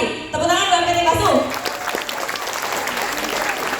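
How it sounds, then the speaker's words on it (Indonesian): Applause from an indoor crowd for a company at a business presentation, a loud burst of clapping that fades into a steadier patter with voices speaking over it. "Tepuk tangan buat PT Bakso"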